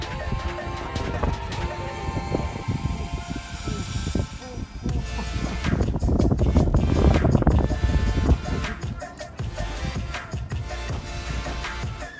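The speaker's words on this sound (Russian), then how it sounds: "На самом деле здесь очень сильный ветер." Strong wind buffets the microphone at the top of a 100-metre bell tower in Seville, a steady roaring rush that swells in the middle and never drops away.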